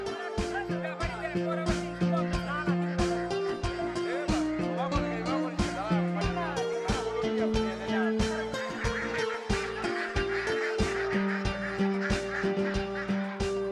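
Caged ducks and chickens at a busy village market send up a steady, dense chorus of honks, quacks and clucks, loud and continuous with overlapping calls throughout.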